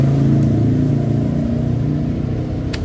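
A Yamaha NMAX scooter fitted with a keyless system runs close by with a steady, mid-pitched engine hum that fades slightly toward the end, and a faint click is heard near the start and the finish.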